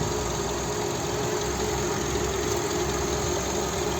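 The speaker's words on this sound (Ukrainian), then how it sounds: "Ось робота двигуна." A 2007 Skoda Octavia A5 1.6 MPI engine idles steadily, a constant low rumble and hum with broadband noise, unchanging throughout and with no voices.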